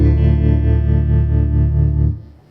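Electric guitar played through a small Fender combo amp with the vibrato turned up high, one sustained, warbling chord pulsing steadily and loudly before cutting off near the end.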